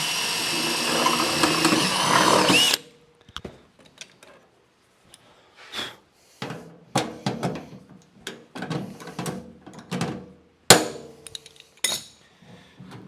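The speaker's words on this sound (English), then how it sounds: "I think we're coming up on the last rivet" A hammer sets rivets on a sheet metal flange of a gardener's hobby box, with a loud grinding or machine burst at the start. Scattered sharp metallic taps and knocks follow at irregular intervals, close by and with no speech.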